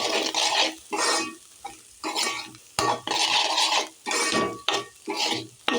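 Eggs are stirred in a hot frying pan for egg fried rice, a spatula scraping in repeated bursts over a steady sizzle, close and fairly loud with no talking.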